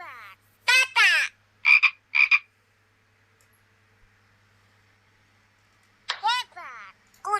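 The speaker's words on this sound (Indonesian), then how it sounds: "katak" Frog croaks come in short, raspy, pulsing bursts, several in quick succession, then a pause and another cluster, loud and close against near silence in a children's educational game.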